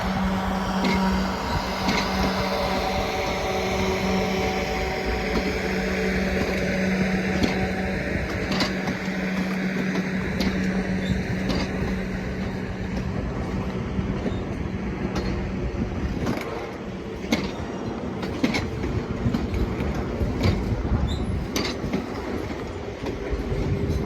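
Train departing Clapham Junction on the South Western Main Line, a steady rolling rumble with clickety-clack of wheels over rail joints and occasional squeaks, moderately near and continuous.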